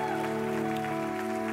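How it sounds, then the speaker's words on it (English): A church congregation claps for school administrators during a back-to-school blessing service, a soft spread of hand claps beneath a sustained organ or keyboard chord that holds steady throughout. "Let's give them a hand clap."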